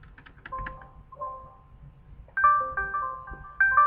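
An incoming call ringtone plays on a computer during an online chat, with soft electronic tones giving way to a louder repeating multi-note chime that sounds in short bursts, close and clear.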